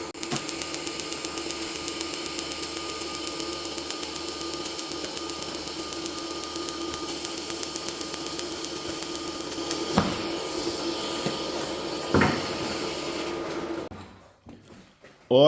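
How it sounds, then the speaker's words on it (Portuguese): A TIG welder melts one metal piece into another, giving a steady low electrical hum and faint hiss, quiet and continuous, with a couple of small clicks before it cuts off near the end. "que soldinha mais bacana, TIG, hein? Ó, só derretendo uma peça na outra."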